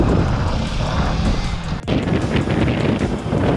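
A 300 cc Kawasaki Versys-X 300 motorcycle riding through town, heard as a continuous loud rush of engine and heavy wind buffeting on the microphone, with one brief dip partway through.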